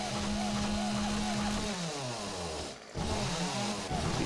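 A chainsaw runs in 7 Days to Die, its engine buzzing loud and steady, revving up and down as it cuts, with a short drop before it picks up again.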